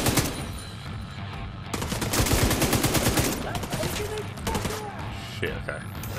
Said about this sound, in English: Let's try this bad boy out for size. Let's go. Oh boy, he shreds. It's pretty accurate as well for an LMG.